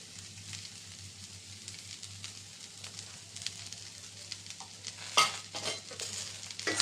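Stuffed okra being stirred with leftover masala in a pan, a low sizzle under scraping strokes of a spatula that grow louder toward the end, no talk.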